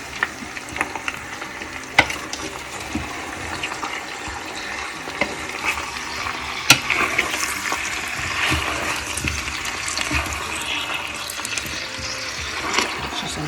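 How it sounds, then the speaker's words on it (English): Lard sizzles steadily in the bottom of a large stock pot, a dense crackling hiss with scattered sharp pops and ticks, continuous and close, with no one talking. "Here it's sizzling down the bottom of the pan."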